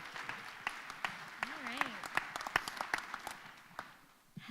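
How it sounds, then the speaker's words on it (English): An audience applauds for Linda Powers at a university public policy challenge finals event, with scattered individual claps forming a moderate, uneven patter and a brief voice rising in the middle. "you can applaud for Linda"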